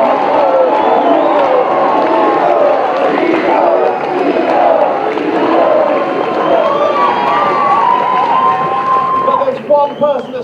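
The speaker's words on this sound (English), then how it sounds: "Give a massive round of applause" Studio audience for a Children in Need broadcast roaring with cheers, whoops and shouts over applause, a loud, dense crowd sound that runs throughout and thins slightly at the very end.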